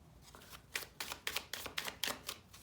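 Soft, rhythmic riffle of cards being shuffled, several quick bursts in a row, close and fairly quiet.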